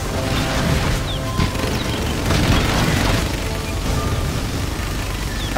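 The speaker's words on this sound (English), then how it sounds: "Particle cannon activated." Particle cannon firing in Command & Conquer Generals Shockwave, a dense, loud, sustained booming roar with low rumble and crackling bursts running steadily throughout, mixed with game sound effects.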